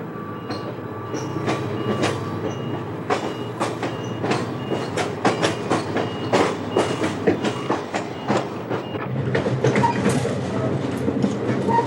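An Amtrak passenger train rumbles along the rails with steady clickety-clack from the wheels, a continuous loud rolling run with brief sharper clanks scattered throughout.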